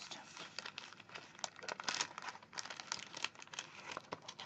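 A paper pad for handmade word-and-picture ephemera tucks and pockets is handled close up, with steady crinkling and rustling of the sheets continuing throughout and no talk over it.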